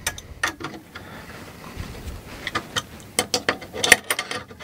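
Ratcheting wrench clicks tightening a nut with a lock washer on a Geeetech aluminum Prusa i3 printer frame, irregular bursts of sharp close clicks, growing denser toward the end, with no talk.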